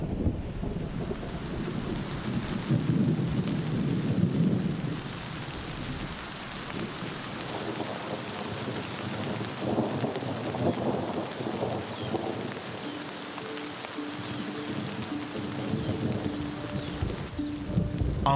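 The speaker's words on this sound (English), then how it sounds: "a rumble of thunder signals an end to the dry season." Thunder rumbles low and long over steady rain at the end of the dry season in Africa, with deep rolling swells rising and fading while rain patters continuously underneath.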